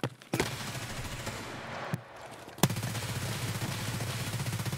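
M4 rifle fire in Escape From Tarkov: a few sharp, loud shots spaced apart, then a dense, continuous stretch of rapid automatic fire that carries on loud and close.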